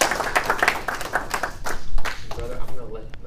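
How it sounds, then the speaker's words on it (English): Audience clapping during a church service, with scattered sharp claps and voices talking over the applause before it thins out. "Let's give a round of applause to Sean."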